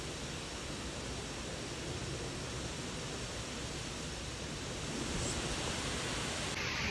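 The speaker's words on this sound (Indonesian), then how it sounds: "ini kita sudah sampai di air terjun Taman Eden ya guys" Waterfall at Taman Eden, a steady broadband rush of falling water that stays loud and constant throughout, with no voices over it.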